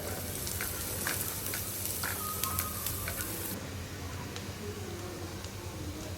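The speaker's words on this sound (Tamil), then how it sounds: "ஒரு பெரிய வெங்காயத்தை போட்டு இதை எல்லாத்தையும் நல்லா வதக்கி விட்டுறலாம்" Onion, green chili and curry leaves sauté in a pan for an upma breakfast, giving a soft, continuous sizzle with occasional light ticks and spatters, fairly quiet and close.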